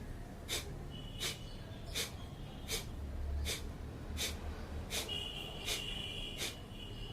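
Forceful pranayama exhalations made by squeezing the belly: about ten sharp, breathy puffs at a steady rhythm, each roughly half a second apart, close and clear over quiet room tone.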